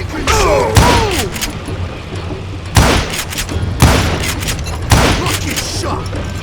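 Gunfire in the Western shooter game Call of Juarez Gunslinger: four or five heavy, booming revolver shots spaced roughly a second apart, each with a sharp crack and rumbling tail over a low background rumble, with a short burst of voice early on.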